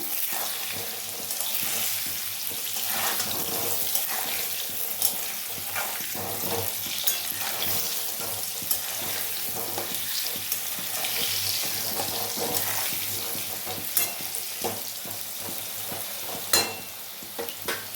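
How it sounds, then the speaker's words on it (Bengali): Potatoes frying with salt and turmeric in a pan give a steady, close sizzle and crackle, with occasional clinks of stirring and no talk. "আলুটা ভেজে নি চলো দিয়ে দেবো নুন আর দিয়ে দেবো হলুদ দিয়ে ভেজে তুলে নেবো আলুটা"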